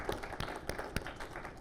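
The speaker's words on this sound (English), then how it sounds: "So let's give a round of applause for our sponsors" An audience at a comics festival event applauds its sponsors, with close individual hand claps standing out sharply from a modest, uneven patter of clapping.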